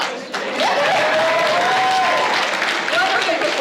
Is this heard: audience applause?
yes